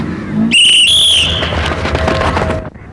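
A loud, piercing whistle blown once in a long blast in a Tamil comedy drama, followed by rumbling, broadband noise like a bus pulling away that fades near the end.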